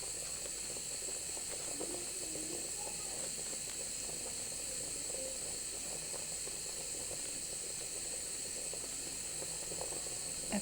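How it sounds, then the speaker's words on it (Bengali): Radish curry gravy comes to a boil in a pot on a home stove, a steady hiss of steam and soft bubbling with faint clinks, no voices. "এখন বলক এসে পড়েছে"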